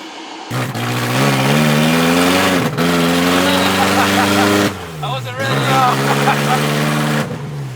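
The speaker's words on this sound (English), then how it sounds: "I think it's running crappy because the exhaust isn't hooked up" A BMW E30 with a swapped BEAMS engine and its exhaust disconnected revs hard with a rough, raw drone, dropping and rising between surges; a voice speaks briefly over it.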